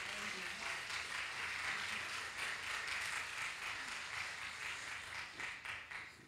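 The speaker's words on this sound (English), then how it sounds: "let's clap first" Audience applause at a talk on nonprofit word-of-mouth marketing: steady, dense clapping from a crowd filling the room, holding even and continuous before tapering slightly at the end.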